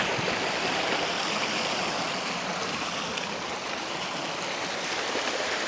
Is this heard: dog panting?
no